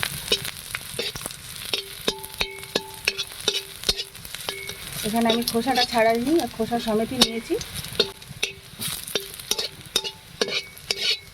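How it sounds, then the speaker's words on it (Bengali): Crushed garlic cloves, still in their peels, sizzle steadily in hot oil while a spatula scrapes and taps the pan; midway someone speaks briefly over the frying. "হালকা লাল লাল করে ভেজে নেব"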